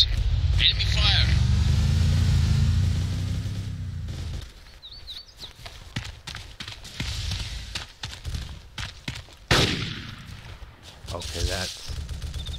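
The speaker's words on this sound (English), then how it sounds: "Enemy fire." Gunfire in a military simulator game, with a vehicle engine droning first, then scattered sharp shots and bursts at mid distance, alongside talk.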